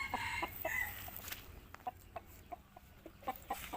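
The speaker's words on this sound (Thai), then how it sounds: "ไก่ดำพันธุ์อินโด" Indonesian black chickens on a small rural farm cluck in short, irregular bursts, fairly close and clear over a soft outdoor background.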